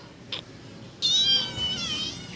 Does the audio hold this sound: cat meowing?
yes